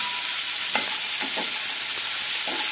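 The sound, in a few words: cashews frying in a pan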